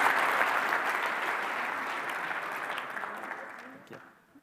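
A room full of people at a technology awards ceremony applaud steadily, the clapping dense at first and then thinning out and fading away.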